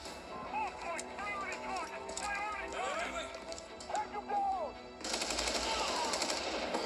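Bursts of rapid gunfire in the video game Prototype, with automatic weapon chatter under excited talk and a louder, denser barrage breaking out near the end.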